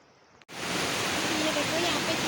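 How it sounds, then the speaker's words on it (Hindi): After a brief quiet moment, the loud, steady rush of a mountain stream takes over, a constant broadband roar of flowing water heard up close. "ये देखो यहाँ पे कितना पानी है, और मुझे इस पानी को क्रॉस करना है।"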